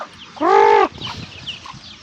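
A single loud, drawn-out hen squawk sounds close by, followed by softer scattered clucks and background chatter from other chickens.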